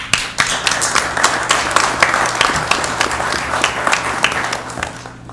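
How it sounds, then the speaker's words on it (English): Applause from the audience at a city council meeting honoring a library board trustee, a room of people clapping steadily, with some individual claps standing out close by, then stopping abruptly near the end. "Huge round of applause for Mr. Ed Barrett."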